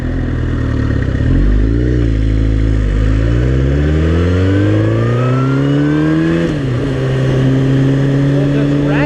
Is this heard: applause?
no